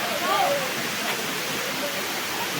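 Langkangtui waterfall near Chotolangpher village roars as a constant broadband rush of falling water. Faint bird calls sit over it, and a voice is heard softly in the background.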